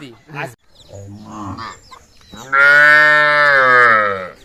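At a cattle market in Dinajpur, cows and calves low nearby: a short moo, then a softer lowing, then a long, loud, drawn-out moo filling the second half.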